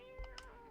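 A short cat meow, a couple of brief soft calls close by in a quiet indoor room, with no talking.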